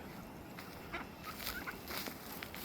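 Ducks and ducklings call in a few short, scattered quacks and peeps over steady outdoor background noise, the calls fairly faint and spread across the moment.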